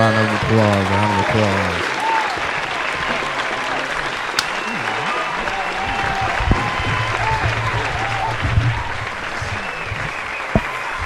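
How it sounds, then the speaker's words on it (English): A studio audience applauds continuously, with dense clapping and some whoops, while a voice speaks briefly at the start. "the applause is going crazy"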